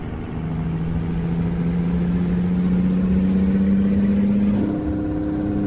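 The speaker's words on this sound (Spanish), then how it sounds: "Le metí también un mod de sonidos de Caterpillar, bueno, creo que es de Cummins, motores Cummins, para que se escuche mejor" A Kenworth T800 dump truck with trailer in a driving game, fitted with a Cummins engine sound mod, drones steadily at a low rumble that climbs slowly in pitch, then shifts abruptly near the end.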